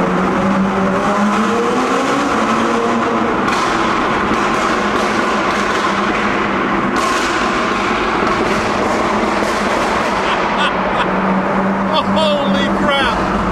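An 850 hp supercar accelerating hard, its very loud engine roaring continuously and rising in pitch at close range inside the cabin, with a voice briefly exclaiming over it.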